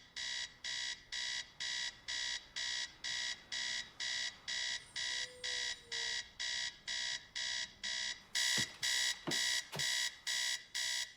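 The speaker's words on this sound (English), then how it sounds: "a soothing vibe that would clash with the alarm clock" An electronic alarm clock beeps in a steady, rapid pulsing rhythm throughout a film scene, loud and unrelenting, while a few sharp knocks land near the end.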